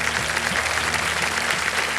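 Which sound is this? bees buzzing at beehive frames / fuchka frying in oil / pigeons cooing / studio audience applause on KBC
studio audience applause on KBC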